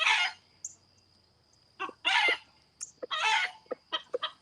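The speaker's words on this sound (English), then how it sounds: "Brandon's being rude and trying to talk over the chickens" Chickens cluck and a rooster calls in short, close bursts with quiet gaps between, against a faint steady background hum on a small farm.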